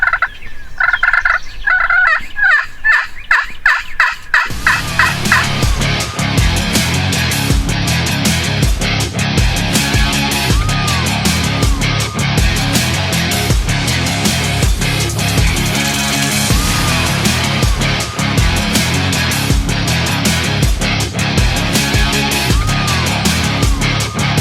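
Wild turkeys gobble repeatedly during a spring archery hunt, loud, close rattling gobbles that follow an opening run of rapid clucks, with several birds calling back and forth throughout.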